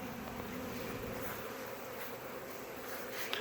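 Honey bees hum and buzz steadily around a small two-frame hive box as they march in at a beeyard, a soft, continuous drone with no voices.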